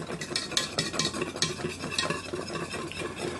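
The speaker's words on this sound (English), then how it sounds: "If you like some good brown gravy, we just keep on stirring and keep on cooking." Brown gravy made with melted oil or lard is stirred in a pan, giving a busy, rhythmic scraping of the utensil over a low sizzle, close and continuous with no talking.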